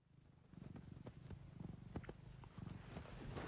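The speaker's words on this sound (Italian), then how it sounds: "Fai sentire tutti che mi stai facendo le fusa." A cat purrs close up in a steady low rumbling rhythm that runs throughout, fairly quiet, with a few faint clicks and no talking.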